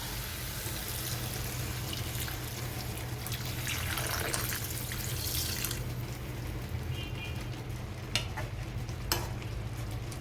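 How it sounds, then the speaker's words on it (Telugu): Steady sizzling and bubbling of butter chicken cooking in a pan as a glass of water goes in, with a few sharp clinks of a utensil toward the end. "ఇందులో 1 గ్లాస్ వాటర్ వేసుకోవాలి"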